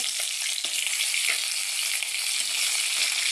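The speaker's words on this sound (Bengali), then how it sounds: "এই যে মাছ ভাজা হচ্ছে" Fish fries in hot oil in a pan, a loud, close, unbroken sizzle with scattered crackles and pops, no voices over it.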